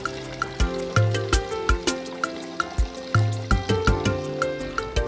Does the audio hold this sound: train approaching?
no